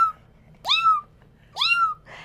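A person imitates a kitten's meow to call a mother cat, making two drawn-out, rising-then-falling mews about a second apart, close and clear against a quiet background.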